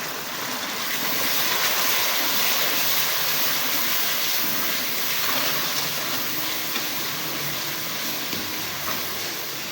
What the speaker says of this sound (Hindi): हल्का सा पानी का छींटा लगाएंगे।